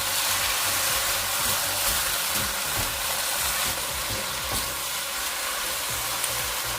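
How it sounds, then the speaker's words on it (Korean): Fish cake stir-frying with seasoning sauce over medium heat in a pan, giving a steady broadband sizzle with scattered scraping and stirring clatter, close and continuous with no voices. "이제 양념장을 넣고 중간불에서 재빨리 볶아주세요."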